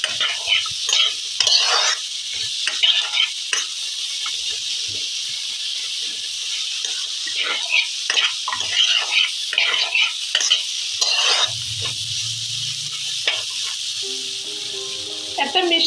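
Spices frying on a low flame while being stirred, a soft hiss with repeated light scraping strokes and brief clinks, steady and close throughout.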